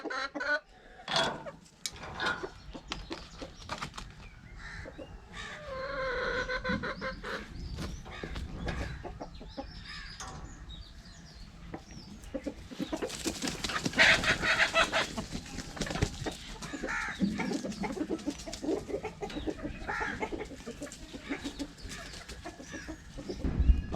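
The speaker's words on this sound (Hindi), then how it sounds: "अब ज़रा मुर्गियाँ जो एंजॉय कर लेंगी बाहर घूमना फिरना" Chickens clucking while roaming outside, with scattered close clucks and calls that grow busier and louder in the second half, no talking.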